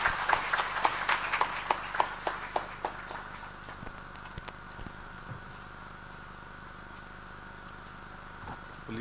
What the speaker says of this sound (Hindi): ओजस्वी मुख्यमंत्री जी के लिए आपकी जोरदार तालियां लगातार बजती रहनी चाहिए